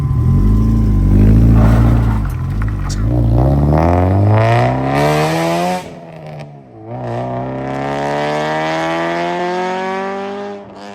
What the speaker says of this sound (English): I can still hear that car in the distance.